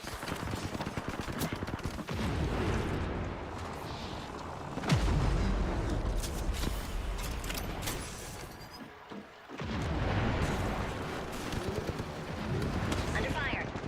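Video game combat with rapid bursts of gunfire and booming impacts, dense and continuous with a brief lull midway, while a voice talks over it.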